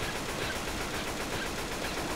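Rapid gunfire in Left 4 Dead 2 rattles continuously at a fairly quiet level, a dense, unbroken stream of shots blurred into a noisy wash.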